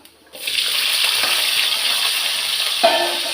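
Curry leaves, chopped onion and green chillies dropped into hot oil set off a loud, steady, close sizzling hiss after a brief quiet start, holding evenly to the end.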